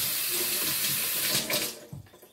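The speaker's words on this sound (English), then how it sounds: "I'm gonna fill this up with water" Tap water runs steadily into a container, a loud continuous gushing that shifts in tone near the end as the flow changes.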